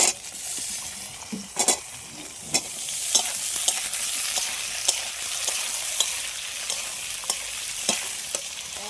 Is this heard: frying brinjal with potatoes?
yes